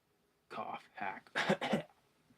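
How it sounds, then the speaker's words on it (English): A person hacks out a cluster of four rough coughs in a quiet room, close and loud, after a brief silence. "cough hack."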